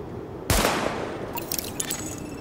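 Sidearm fired at highlighted targets on a test range in The Division, a single sharp close shot followed by a faint reverberant tail and a few small clicks and metallic rings.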